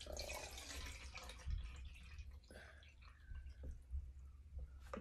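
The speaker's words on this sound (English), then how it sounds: "We're going to pour out the liquid." Liquid poured out of a container during an egg experiment, a quiet uneven trickle with drips and splashes, faint and close by.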